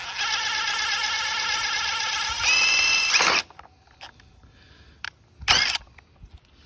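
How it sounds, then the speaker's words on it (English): A power drill bores out a rivet on Ford Mustang trim, whining loud and steady for about three seconds, rising in pitch briefly before cutting off, followed by quiet handling clicks and one short burst of the drill. "just go ahead and drill that rivet out"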